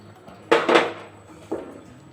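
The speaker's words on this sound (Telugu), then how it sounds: "ఉండకట్టకుండా కలుపుకుందాం. ముద్ద అయ్యేంత వరకు కదుపుకుంటూ ఉన్నాం." A spoon stirs sorghum flour mixture in a pan on a low stove, giving two quick close clanks and then one more scraping knock against the metal, with quiet between.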